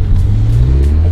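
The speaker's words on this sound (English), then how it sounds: "Yeah, we're gonna do a couple flybys." A 2022 Subaru BRZ fitted with a titanium exhaust drones loudly and steadily at close range, a deep low rumble holding even with no clear rise or fade.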